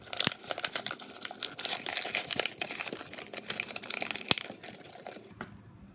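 Crinkly plastic packaging is handled and torn open to get at pencil-topper erasers, giving close, irregular crackling and rustling with sharp clicks and snaps throughout.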